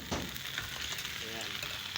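Crab (alimango) frying in a pan, a steady loud sizzle with some stirring, a faint voice underneath.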